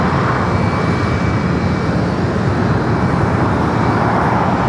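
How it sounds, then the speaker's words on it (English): American Airlines A321neo taking off from Los Angeles International Airport, a steady broadband engine rush at moderate distance, constant throughout with a faint thin whine above, no talking. "First departure of today's stream is American Airlines flight 345 heading to Miami. It's an A321neo."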